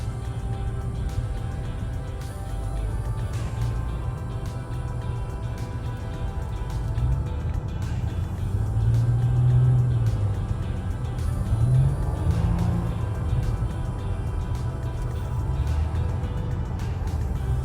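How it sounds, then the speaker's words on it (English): A Nissan Maxima sedan on the road gives a steady low engine hum and tyre rumble, with the drone rising slightly as it accelerates midway and no talk heard. "let's take the Maxima for a drive, see how it handles, how it rides."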